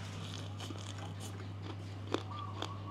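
Crunchy garlic-fried frog being bitten and chewed, a few crisp sharp crunches standing out close and clear over a steady low hum.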